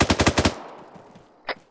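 Automatic gunfire in the military video game Arma 3: a rapid burst of about six close, loud shots, then a decaying echo and one more single shot a second later.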